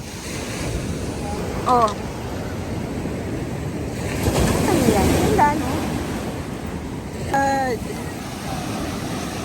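Wild sea waves crash and roar continuously at Patar Beach in Bolinao, with gusty wind buffeting the microphone, the surge swelling midway while people exclaim briefly over the surf.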